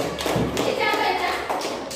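Schoolchildren clapping in a classroom, a burst of hand claps and thuddy taps from small hands nearby, with children's voices chattering underneath.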